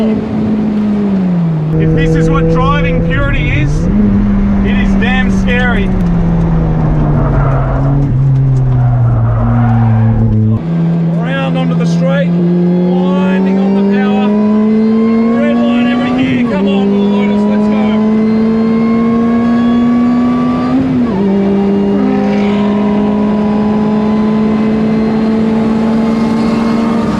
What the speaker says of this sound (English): Maybe I just need to be really revving the pants on it more.